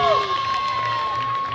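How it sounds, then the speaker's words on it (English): A crowd at the 2023 Halloween Carnival costume contest in Temecula cheers and claps loudly and steadily, with a sustained tone and some voices mixed into the noise. "A big round of applause"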